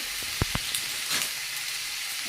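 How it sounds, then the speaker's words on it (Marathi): Chopped onion frying in oil in a pan for a spicy mutton curry, a steady close sizzle with a couple of sharp taps near the start. "तर सर्वात आधी हा कांदा मी चांगला परतून घेते"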